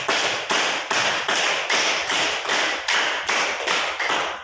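A group claps a rhythmic pattern in a classroom session, about nine sharp, evenly spaced claps at a steady half-second pulse, loud and close.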